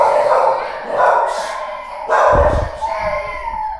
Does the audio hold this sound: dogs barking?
yes